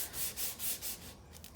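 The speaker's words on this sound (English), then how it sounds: "sand the marks, the cut marks and the belt grinder marks out of these pins" Hand sanding of the pins on a handmade swamp rat file knife handle to remove cut and belt grinder marks, four rhythmic back-and-forth rasping strokes up close, then lighter scratchy rubbing, with no talking.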